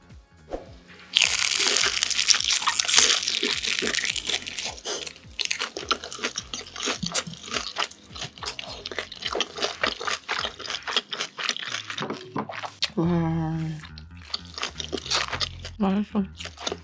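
Crispy-outside, chewy-inside Korean sweet and sour pork (tangsuyuk) is bitten and chewed up close, giving loud repeated crunches and wet chewing that start abruptly, then turn more sporadic, with some talk mixed in.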